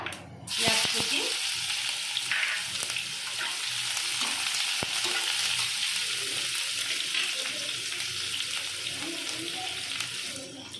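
Mustard oil fries in a pan in a village kitchen, giving a steady close crackling sizzle with occasional stirring scrapes and clinks throughout.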